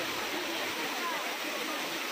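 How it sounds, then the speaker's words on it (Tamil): Medium-height waterfall at Kovai Kutralam pouring with strong force, a steady, dense roar of falling water filling the scene without pause. "ஃபால்ஸ் ரொம்பலாம் ஹைட்டில் இல்லைங்க, ஒரு மீடியமான ஹைட் தான். ஆனால் தண்ணி விழுகிற ஃபோர்ஸ் நல்லாயிருக்கு."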